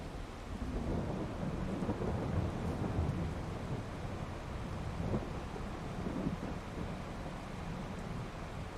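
In the farming game Farming Simulator 22, steady rain hisses alongside a low, continuous rumble of thunder and wind, faint and unbroken throughout.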